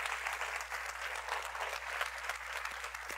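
A church congregation applauds together at a Christian worship service, a dense, steady wash of many hands clapping that stays loud and even throughout, with no voice standing out.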